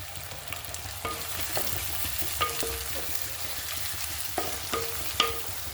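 Sliced onions, slit green chilies and curry leaves fry in a pan for a homestyle chicken curry, with a steady broadband sizzle and repeated sharp scrapes of stirring spaced through the clip.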